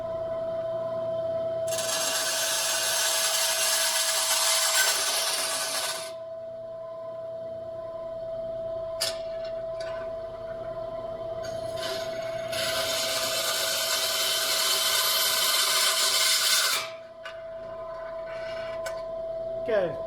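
A bandsaw fitted with a 62-inch blade cuts wood in two long, loud rasping passes of about four seconds each, separated by a quieter stretch, over a steady motor hum with a few brief knocks.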